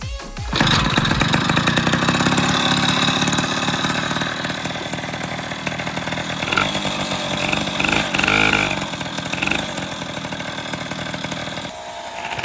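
A rebuilt moped engine starts abruptly and runs loud and close, with a buzzy two-stroke rasp that revs and then settles into a steady idle.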